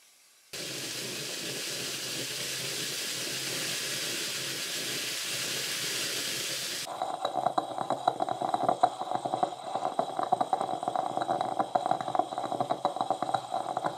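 A stainless steel stovetop coffee maker on the stove gives a steady loud hiss of escaping steam, which then turns into rapid crackling, sputtering gurgles as the coffee boils up, close by with no talk.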